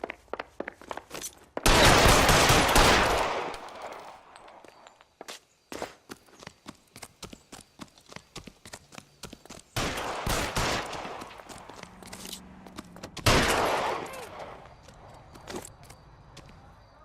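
Gunfire in the video game L.A. Noire, loud bursts of shots in two main volleys with scattered single cracks and footstep-like thuds between them.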